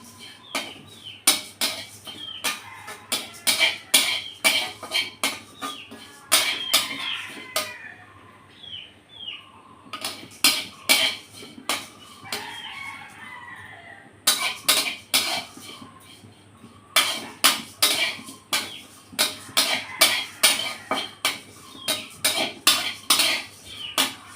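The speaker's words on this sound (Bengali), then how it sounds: "শুধু আলাদা চিড়েটা ভেজে নেব" Flattened rice (chira) is fried in a pan, with a utensil clinking and scraping against the metal in quick rhythmic bursts separated by short pauses. The sound is close and moderately loud.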